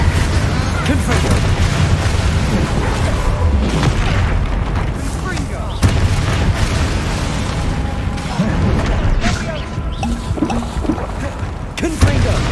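The Confringo fire spell in the Hogwarts Legacy video game, heavy booming explosions and rumbling blasts running continuously through loud combat, with sharp cracks and character voices calling out.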